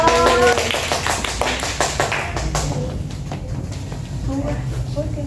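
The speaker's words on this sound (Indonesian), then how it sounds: "Tepuk tangannya dong" Students in a classroom clap hands in a quick run of sharp, close claps, with voices talking briefly at the start and end.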